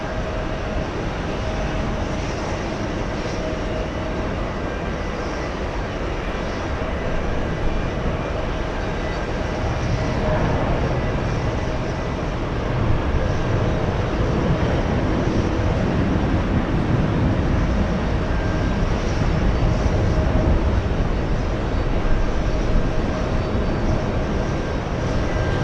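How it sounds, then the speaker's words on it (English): A JetBlue Airbus A320 jet at JFK airport rumbles and roars steadily, building a little louder in the second half and continuing without voices. "That's an A320."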